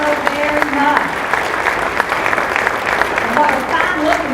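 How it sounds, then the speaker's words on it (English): A gala crowd at an entrepreneurial forum gives a group a big round of applause while they pose for a photograph, brisk clapping with voices and cheers mixed in throughout. "let's give them all a big round of applause"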